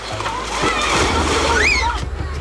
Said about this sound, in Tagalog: Ang mga bata enjoy sa pagdive mula sa isang malaking bato.